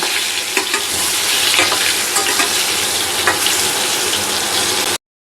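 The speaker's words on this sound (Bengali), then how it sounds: "পটলটাকে আমি হালকা করে ভেজে নেব" Pointed gourd (potol) with turmeric fries in oil with a dense, loud, continuous sizzle, stirred with scraping and light clatter, before cutting off abruptly.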